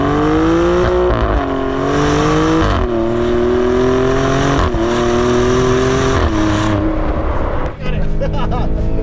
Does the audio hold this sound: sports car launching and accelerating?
yes